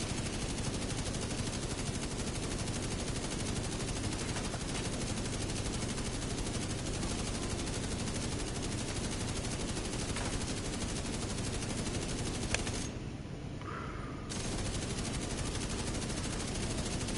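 Bullet King light machine gun in The Division 2 firing in one long unbroken automatic stream, loud and dense, with a brief dip near the end before the gunfire resumes.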